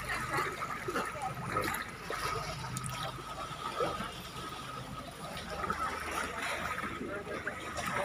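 A bangka boat on the water at Banul Beach, with a steady wash of moving and trickling water throughout while a person talks over it.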